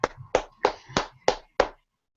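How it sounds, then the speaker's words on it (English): Six sharp hand claps in a steady, evenly spaced rhythm, close and clear, then silence. "Does that clap remind you of anybody?"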